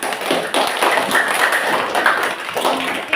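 Students clap in a classroom after a milk tea preparation demonstration, a close, uneven patter of a small group's hand claps with some taps and thuds mixed in.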